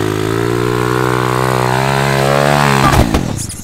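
A mini motorcycle stuck in mud revs loudly and close by, its engine note climbing steadily before a sharp spike and a ragged drop-off.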